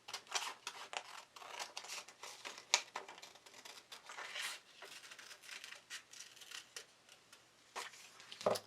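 Scissors snip through black chipboard to cut out shutter pieces for a fairy-themed journal cover, a quiet close run of irregular crisp cuts and paper crinkles with brief pauses between strokes.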